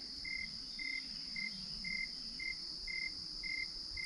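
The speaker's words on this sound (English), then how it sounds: "Got some crickets behind me." Crickets chirp in the forest at dawn along Clarke's Creek valley on Peter's Mountain, a steady high trill with a regular pulsing chirp repeating about twice a second, faint and close, with no talk.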